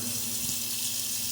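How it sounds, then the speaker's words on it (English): Tap water running steadily through a loosened safety razor head (Gillette Nacet) at a sink, a close, even hiss and splash with no talk. "Loosen up the razor head, run some water"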